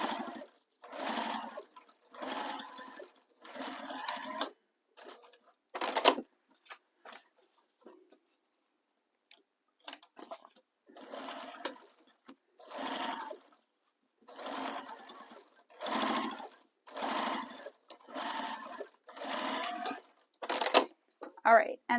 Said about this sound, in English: adjust your stitch length to your favorite top stitch length, and then we're going to top stitch this all the way across